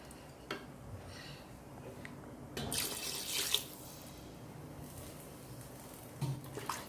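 Water pours from a tap into a pressure cooker of South Indian mutton curry, a short splashing burst of a second or so, moderately close, with no talk over it.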